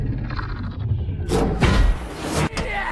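A heavy tank cannon blast rings out mid-clip, a broad booming burst with a rushing tail, followed by a second sharp impact on a tank shortly after over low rumbling.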